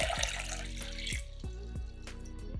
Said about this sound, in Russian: Берем кастрюлю из расчета на 3 литра воды и наливаем в нее 2 литра воды.